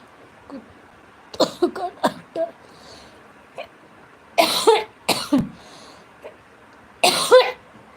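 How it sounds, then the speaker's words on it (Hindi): Several bursts of coughing, some single and some in quick clusters, close and fairly loud against a quiet background. "आज ज़्यादा खांसी आती है।"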